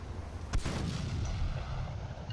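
A single cannon shot fires in the On The FrontLine war video game: one sharp, loud boom near the start, followed by a rumbling low tail and steady battlefield noise.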